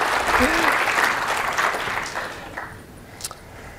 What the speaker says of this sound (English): So yes, applause, Yeah, please.